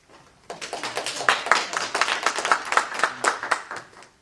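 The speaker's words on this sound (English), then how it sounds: "does everyone give a big round of applause?" Audience applause at an academic colloquium talk, a burst of many hands clapping that builds quickly and stays steady for several seconds.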